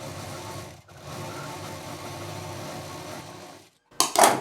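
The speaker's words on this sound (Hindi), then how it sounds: "इस बेल्ट में हम बीच में भी एक मशीन की सिलाई चलाएंगे" A sewing machine runs steadily, stitching along a fabric bag belt, a close continuous whirring hum with a brief pause, then stopping before a couple of sharp handling clatters.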